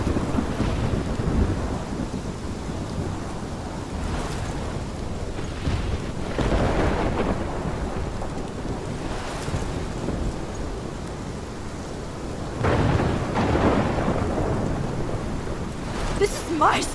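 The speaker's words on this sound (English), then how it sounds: "This is my storm. I caused this." Thunder rumbles repeatedly in a rainstorm in the game Life is Strange, with heavy steady rain throughout and several deep, swelling thunder rolls.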